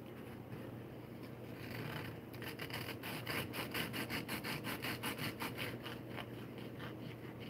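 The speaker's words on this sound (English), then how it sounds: "this essentially acts as a saw" A utility blade saws back and forth through an egg roll in quick, rhythmic rasping strokes, close and fairly loud, speeding up into a steady burst of cuts after a softer start.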